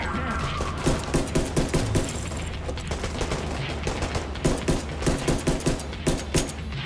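Blind fire from Tom Clancy's The Division 2, rapid bursts of loud gunshots in rhythmic clusters over steady combat background noise.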